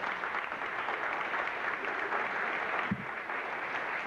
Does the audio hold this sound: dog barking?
no